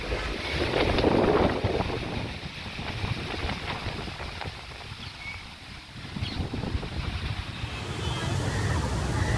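Strong Cyclone Remal winds in Kolkata bending large tree branches: loud, gusty buffeting that surges and eases in waves, with heavy wind noise striking the microphone throughout.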